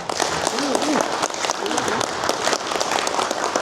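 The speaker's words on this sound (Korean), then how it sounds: "제가 모든 어머니에게 박수를 한번 치자고 제안하고 싶습니다" Lecture audience at a cultural center academy applauds in honor of all mothers, a dense, steady round of clapping from many people in a hall, with a voice briefly audible underneath.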